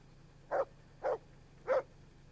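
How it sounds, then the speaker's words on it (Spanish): A dog in the medieval role-playing game Kingdom Come: Deliverance barks three times at a steady spacing, clear and moderately close over a quiet low hum. "Perro."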